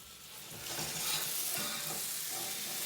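An omelette sizzles in a frying pan as it is flipped, a close, steady hiss under shuffling and scraping from the spatula and pan movement.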